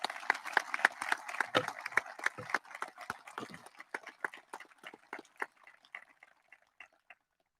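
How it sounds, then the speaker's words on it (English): A graduation audience at a high school ceremony claps, starting as loud, fairly close clapping from many people and then thinning into scattered individual claps that fade out toward the end. "Please give them all a big round of applause."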